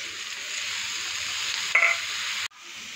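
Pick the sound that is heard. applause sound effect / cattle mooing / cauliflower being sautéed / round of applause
cauliflower being sautéed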